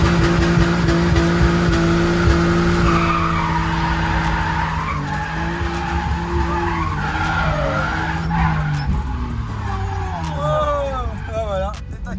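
A car drifting on a track during a drift lesson, its tires squealing and skidding in long, wavering screeches over a revving engine, with excited talk from inside the car.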